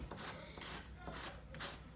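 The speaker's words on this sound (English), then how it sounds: "I can also see it's scraping up the leather a good bit" Polish being rubbed hard into coarse leather on a distressed apron: repeated faint, close scratchy rubbing strokes in an uneven rhythm, one after another with no pauses.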